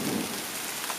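Heavy rain pours down during a night thunderstorm, with big raindrops pelting close to the microphone in a steady, dense roar and low thunder rumbling underneath, no voices.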